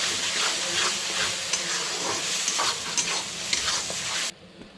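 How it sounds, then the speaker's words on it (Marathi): Spices, chili, salt and ginger-garlic paste sizzling and frying in oil in a pan, a steady bright hiss with occasional stirring scrapes, up close, before the sizzle cuts off abruptly near the end. "हे सगळं व्यवस्थित परतून घ्यायचं आहे"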